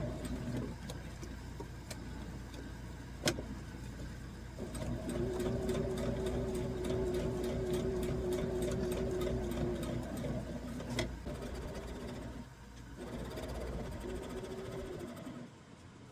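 A sewing machine stitches through plastic pockets in bursts, its motor whirring and needle ticking rapidly at close range, with brief pauses between runs of stitching.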